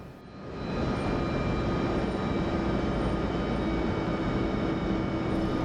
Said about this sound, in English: Now we are backtracking on the runway